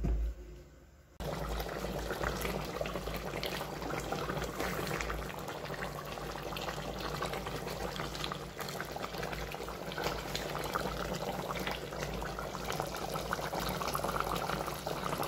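Beef rib broth from a pressure-cooked rib dish simmers in a pot, giving a steady, continuous bubbling boil that runs loud and close throughout after a brief quiet start, with no talking.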